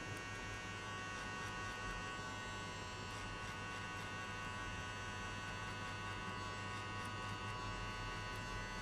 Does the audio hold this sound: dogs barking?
no